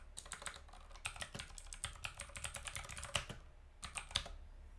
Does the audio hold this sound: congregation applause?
no